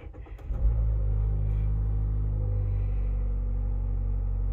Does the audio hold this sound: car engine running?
yes